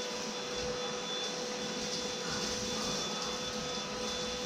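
A Dibea ST1601 stick vacuum cleaner runs with a steady, loud broadband whir and a constant high whine, close by and alone for the whole stretch.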